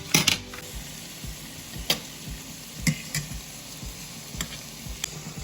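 Sautéing for a carbonara in a pan: a steady, fairly quiet sizzle with scattered stirring clicks and scrapes at irregular intervals, no voices.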